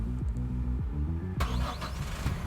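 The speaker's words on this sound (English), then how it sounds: "So now let's push start this car." Push-button start of a Toyota Hilux Rogue 4x4 pickup: a short starter crank, then the engine catches and settles into a steady, close idle with a brief rev.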